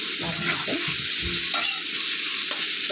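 Onions sautéing in a pan while being stirred, with a steady bright sizzle and scraping spoon strokes repeating through the whole short stretch.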